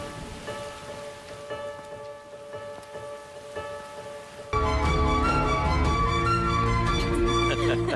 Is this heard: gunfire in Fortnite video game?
no